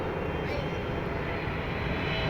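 A fixed-wing airplane landing at Dubai International Airport, a loud, steady roar of engine noise that stays close and constant throughout.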